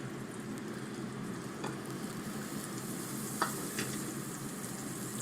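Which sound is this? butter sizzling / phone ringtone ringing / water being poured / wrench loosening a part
butter sizzling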